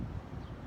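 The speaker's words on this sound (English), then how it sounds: "It's a little windy out here, so I hope the sound is okay." Wind blows across an outdoor microphone in a steady low rumble that fills the brief moment without a break.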